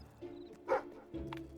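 A dog in a video game gives a single short, sharp bark amid quiet low background murmur, faint and with no voices over it.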